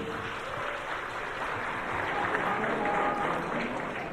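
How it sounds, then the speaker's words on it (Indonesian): Audience applause at the National Governance Awards 2026 ceremony, broadcast live, a steady wash of clapping that holds evenly for several seconds with a faint crowd murmur beneath. "Tepuk tangan buat Metro TV"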